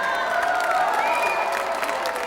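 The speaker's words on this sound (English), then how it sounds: "So please keep clapping, guys." A dance recital audience claps and cheers in a dense, continuous wash of applause, with a few tonal whistles or voices rising through the crowd noise.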